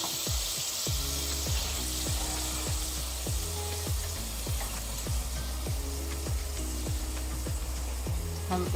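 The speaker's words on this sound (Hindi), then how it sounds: "इनको हल्का सा फ्राई कर लें।" Whole spices and tomato paste frying in hot oil for chicken kofta curry, a loud steady sizzle throughout, with regular scraping stirs of a spoon against the pan roughly every half second.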